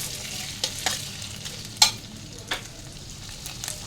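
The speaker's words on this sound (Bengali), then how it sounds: "এবার আলুটা তেলের মধ্যে ফ্রাই করে নেব।" Pieces of pre-boiled, diced potato fry in hot oil, giving a steady soft sizzle with a few sharper crackles and pops scattered through it, heard alone.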